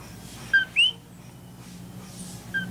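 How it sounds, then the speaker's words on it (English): A little bird chirps outdoors in Puerto Rico, giving a few quick, bright, high chirps in short bursts over a quiet background hush. "It sounded a lot like a little bird."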